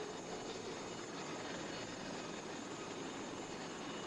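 Aircraft on a crowded airport apron at Milan produce a steady, distant engine roar that holds evenly throughout with no voices.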